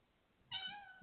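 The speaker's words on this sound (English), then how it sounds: "meow indeed" A pet cat meows once, a clear tonal cry starting midway and holding for about half a second, close by in a quiet room.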